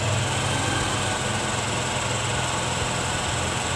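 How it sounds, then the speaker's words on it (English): A TVS Jupiter scooter engine runs at high, steady revs during carburetor tuning, a loud continuous drone with no pauses. "This is the point where I am getting the maximum RPM."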